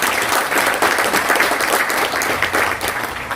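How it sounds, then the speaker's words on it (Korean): Steady applause from a crowd at a political book-launch concert, dense clapping that holds at full strength throughout without any speech on top. "큰 박수 부탁드립니다."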